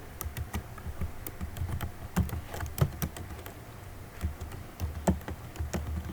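Rapid, uneven keystrokes on a computer keyboard click steadily throughout, close and fairly quiet, with no talk over them.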